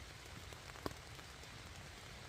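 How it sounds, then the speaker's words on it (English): Overnight rain falling on a 3F UL Gear Taiji 2 tent in the woods, a faint, steady patter with one slightly sharper drop standing out. "The rain is here."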